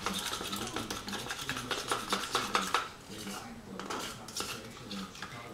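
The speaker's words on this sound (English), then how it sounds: "take 1 of your spoons and make sure you beat the egg pretty well" Spoon clinking rapidly against a bowl while an egg is beaten, a steady run of quick close taps and scrapes that pauses briefly midway before resuming.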